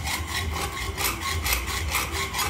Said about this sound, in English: So I'll just use my hacksaw to cut that off.